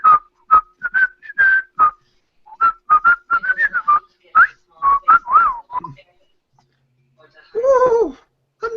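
A person whistles a short, wandering tune in bursts of quick notes, loud and close, standing in for a character's inner whistling, with a brief voiced sound near the end.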